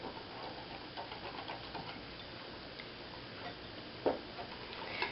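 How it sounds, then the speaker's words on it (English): Cocoa powder, sugar and a pinch of salt are whisked together in a bowl, giving a quiet, steady run of light rhythmic ticking and scraping with one sharper clink near the end. "And you just use a whisk, and you can stir that in"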